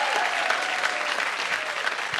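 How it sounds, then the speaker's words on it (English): Audience applause welcoming Parv Kaur onto a festival stage, a dense, steady wash of clapping from a crowd that holds at full strength without pause. "Let's hear a louder roar of applause for this young lady here."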